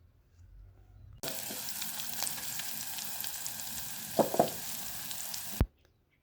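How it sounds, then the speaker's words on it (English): A ginger mixture being stirred in a hot frying pan, a steady close sizzle that starts abruptly, with a few clacks of the utensil against the pan before cutting off sharply; no talking. "I'm just stirring it or giving it a very nice stir so that they get to mix together"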